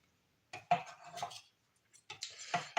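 A sharp kitchen knife chops onions on a cutting board in a cramped van kitchen, giving a few quick clustered knocks and clatters, a pause, then another burst of brisk chopping close by.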